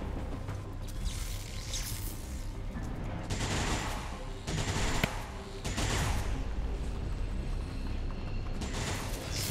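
Bursts of gunfire crack repeatedly in XCOM 2, several sharp shots and rapid volleys over a busy mechanical background.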